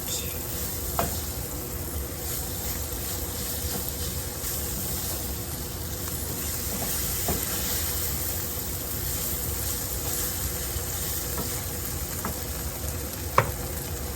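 Flour paste cooking in a pan for gravy gives a steady, soft sizzle with faint stirring scrapes, continuous and close, with a few brief clicks and no talking.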